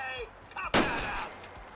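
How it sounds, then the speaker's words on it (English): A single sharp gunshot bursts out while shooting at a turret in Fallout 4, a loud close crack with a short decaying tail, preceded by faint game sounds. "Say, I was shooting the turret."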